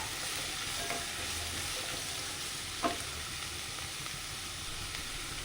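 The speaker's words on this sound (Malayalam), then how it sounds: "നല്ലോണം ഇളക്കി കൊടുക്കാം" Chopped carrot and vegetables sizzle steadily in a hot pan with salt, a constant close frying hiss broken by a few soft scrapes of stirring.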